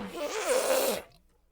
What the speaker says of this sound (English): It's an elephant.